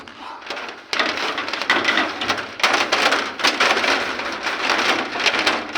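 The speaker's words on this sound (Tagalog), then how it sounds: "Andyan na yung ulan" Heavy rain pours down at night while people shelter under a roof during a fiber extension job, striking suddenly about a second in and then drumming steadily and loudly, with surging gusts and no speech.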